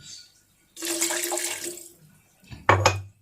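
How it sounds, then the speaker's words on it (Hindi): Water is poured into a pan of tomato masala for a capsicum and potato curry, a steady splashing pour for about a second, then a brief louder clatter near the end. "पहले हम इसमें थोड़ा सा पानी डालेंगे"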